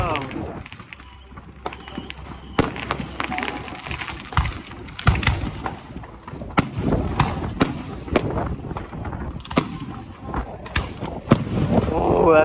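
Repeated loud booms and crackles from 2.5 inch aerial firework shells and comets bursting at a 2024 show in Soledad, California, in dense overlapping volleys with people talking over them.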